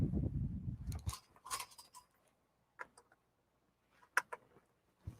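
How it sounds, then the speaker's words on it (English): Batteries dropping out of a keyboard, a few small hard clicks and clatters scattered across a few seconds, close and fairly quiet, after some handling rustle at the start. "And my batteries fell out."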